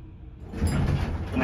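A Dover hydraulic elevator at Crossgates Mall in Albany, NY, rolls its door open as the motor starts. A brief, close sliding rumble swells within about a second and a half.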